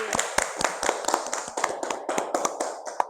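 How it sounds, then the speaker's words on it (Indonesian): A small classroom group claps for a student, a light, uneven patter of hand claps close by, fairly quiet, lasting a few seconds with no talking. "Kita kasih tepuk tangan buat Vivi."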